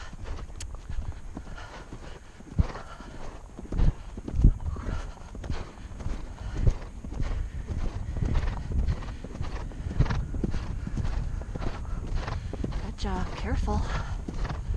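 Hooves of a ridden horse clip-clop on the ground in an uneven walking rhythm, fairly close, with a rider speaking softly now and then.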